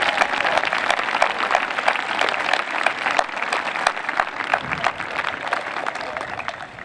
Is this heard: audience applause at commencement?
yes